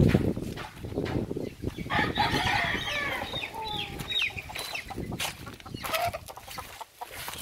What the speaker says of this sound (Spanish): Aquí tenemos otro gallo para padrote también.